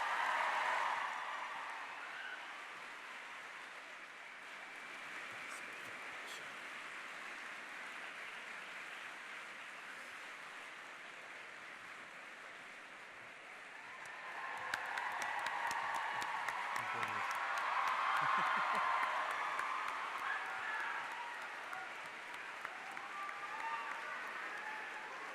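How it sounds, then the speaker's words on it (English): Sustained audience applause fills the hall at the opening ceremony of the BT Young Scientist Exhibition 2018 in Ireland, a dense, steady patter that swells louder partway through and carries on for the full stretch. "Give them a huge round of applause."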